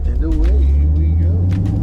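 A C10 longbed pickup with roughly 290,000 miles pulls away, its engine a deep, steady rumble close by with a person talking over it.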